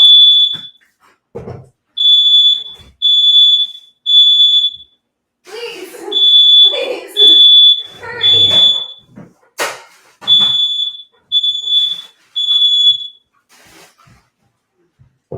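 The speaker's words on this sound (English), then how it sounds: "That's the neighbor alarm." A neighbor's smoke alarm goes off in repeated loud, shrill beeping bursts with short gaps, while people talk and exclaim over it.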